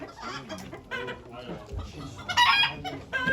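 Chickens cluck and a rooster crows amid a busy crowd at a chicken auction in Ankara, with people talking throughout and a louder crow near the end.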